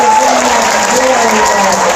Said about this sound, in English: Give our second graders another round of applause.